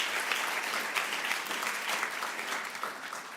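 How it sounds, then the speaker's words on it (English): Steady audience applause at a talk on crossing fault lines for transformational change, a dense wash of many hands clapping at moderate loudness, continuous throughout with no voices over it. "You can clap for 30."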